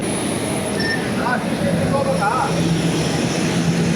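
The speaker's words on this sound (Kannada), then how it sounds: "ಇದು ನಮ್ಮ ಪ್ಲೇನ್, ಇದು ಏರ್ ಇಂಡಿಯಾ 737" Steady, loud broadband rumble and whine surround an Air India Boeing 737 airliner at an airport, with voices talking over the constant engine and apron noise.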